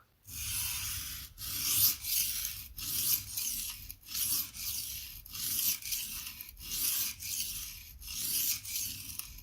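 A Benchmade OTF knife edge is drawn across a sharpening stone in steady rasping strokes, roughly one per second. Each stroke is close and distinct, with brief pauses between them and no talk.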